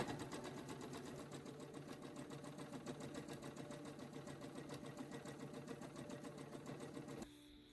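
A sewing machine stitches a seam with a quick, even mechanical chatter that runs steadily and fairly quietly, then stops abruptly near the end, leaving a faint hush.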